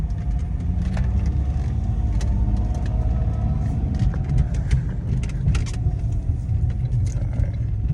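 A car on a test drive after an X-type transfer case install, its engine and road rumble steady and close throughout, with faint interior rattles over the continuous drone.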